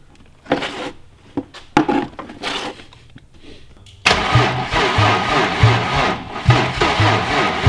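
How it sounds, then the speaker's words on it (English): A BMW E30 fitted with an S52 engine cranks over, with a few short clunks and bursts first, then a sustained rhythmic churning starter crank, loud and close. "I mean, it's cranking."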